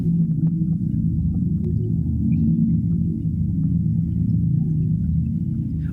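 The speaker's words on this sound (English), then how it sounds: "it's based on hydrophone recordings of blue whales." Electronic piece built from hydrophone recordings of blue whales, a dense, continuous low rumbling drone with faint higher tonal flickers, steady and loud throughout with no voices.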